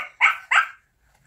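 Two short, close dog barks about a quarter second apart, followed by silence.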